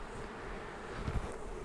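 Honey bees hum around an open nuc hive box, a soft continuous buzz close by with a brief louder knock or handling sound partway through.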